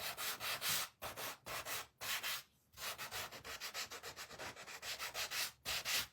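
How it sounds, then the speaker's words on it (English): Wooden pieces from a rustic layered snowman kit being sanded by hand, with short rhythmic bursts of rubbing and scraping broken by brief pauses, close and steady with no talking. "And we'll get these sanded."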